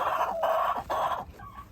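Chickens in a coop giving three loud, drawn-out clucking calls in quick succession, close by, followed by a softer, fainter cluck.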